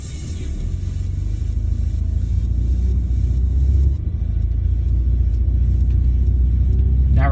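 A car drives along downtown Halifax streets near Prince Street and Citadel Hill, heard from inside as a steady low engine and road rumble, briefly dipping midway before settling back to a constant drone.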